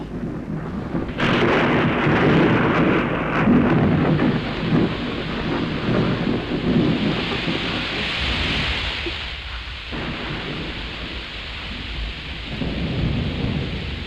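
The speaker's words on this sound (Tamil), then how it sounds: "என்ன இப்படி திடீர்னு மழை வந்துச்சு" Sudden heavy rain with thunder in a village setting, a loud rumbling thunderclap rolling over a continuous dense hiss of rainfall that persists throughout, with no talk.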